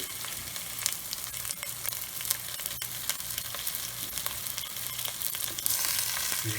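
Tilapia fillets sizzling in a pan with already-fried garlic, a loud, steady crackling hiss with frequent sharp spits and pops, close and continuous, rising slightly near the end, no speech.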